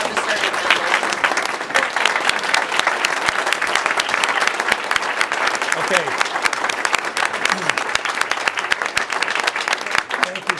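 A crowd at an arts organization's speech event in Minneapolis gives sustained, busy applause with rapid overlapping claps, while a single voice briefly speaks over it.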